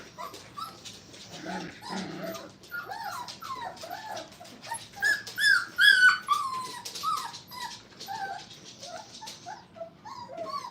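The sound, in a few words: puppy whimpering for attention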